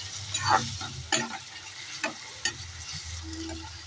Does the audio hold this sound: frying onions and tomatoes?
yes